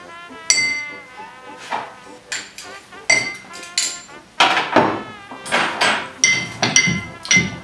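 A muddler pressing ingredients in a glass for a gin and vermouth cocktail: about a dozen close, rhythmic knocks with ringing glassy clinks.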